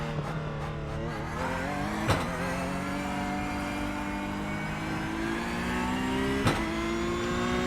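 A Porsche Cup race car engine in the iRacing sim holds a loud, steady, rising tone as it accelerates, with two brief sharp clicks of gear changes and no talk.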